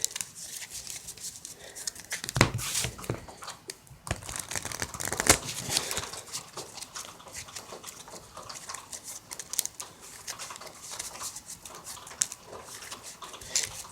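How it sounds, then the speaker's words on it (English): Dragon Ball Super trading cards shuffled by hand like poker cards, giving a continuous close-up crisp riffling and flicking with occasional sharper snaps, steady throughout at moderate loudness with no talk. "I'm just gonna shuffle these like poker cards"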